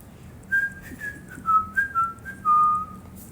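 A person whistles a short, wavering tune of several clear notes, alone and fairly close, over a quiet low background rumble.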